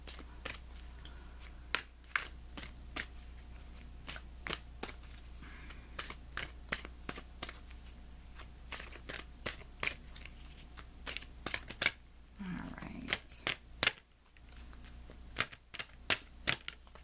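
Tarot cards are shuffled and handled in a series of sharp, close clicks and snaps at uneven intervals, with a brief soft riffle partway through over a quiet background, and no talking.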